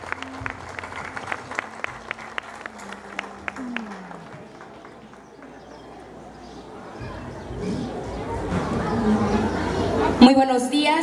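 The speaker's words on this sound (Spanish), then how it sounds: "pido un fuerte y caluroso aplauso" An audience at a civic ceremony in Chucándiro breaks into applause that builds into a sustained, rising wash of clapping, after rhythmic claps and murmuring chatter at the start.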